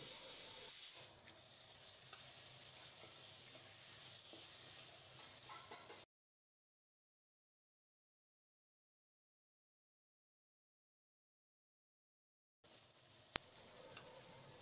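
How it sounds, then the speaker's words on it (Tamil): Onion and tomato sauté in a pan, giving a steady soft sizzle and hiss that carries on evenly, breaks off into a long silent gap, then returns at the same level with a faint click. "இதையும் சேர்த்து நல்லா வதக்கிடலாம்."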